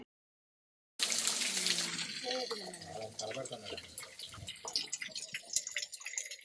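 A waterfall at the Jwala Narasimha Swamy shrine in Ahobilam roars steadily and close after a second of silence. The rushing wash continues throughout while people talk over it.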